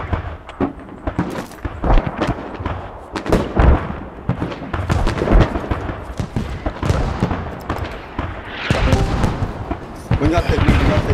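Rapid bursts of gunfire and booming explosions in the military shooter game Squad, loud sharp cracks clustered irregularly, with players talking over the shooting.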